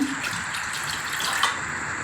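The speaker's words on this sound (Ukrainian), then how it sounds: "Пательня в мене вже гріється, наливаю водичку." Water poured into a frying pan that is already heating: a steady, close gush and splash of liquid running for a couple of seconds.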